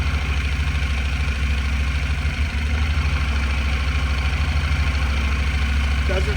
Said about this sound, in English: I'll start up the bike so you can hear it.